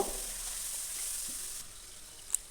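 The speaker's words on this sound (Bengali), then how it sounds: "এরপরে আমি এর মধ্যে দিয়ে দেবো টমেটো কুচিটা" Chopped tomato frying with sugar in a pan for a chickpea curry, a steady soft sizzle with faint crackling and a small clink near the end.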